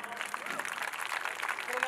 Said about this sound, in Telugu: 30 కిలో ఒకసారి చప్పట్లు కొట్టండి.